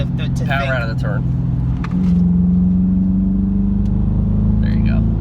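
A Dodge Charger Daytona with its stock exhaust accelerating out of a turn, a deep engine drone building and holding strong while voices talk over it inside the car.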